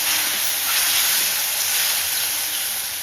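Water hits a hot pan of crab curry with onion, ginger-garlic paste and chopped tomato, a loud, even steam hiss that holds steadily for a few seconds with no voices.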